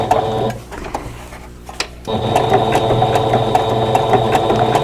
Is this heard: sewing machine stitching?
yes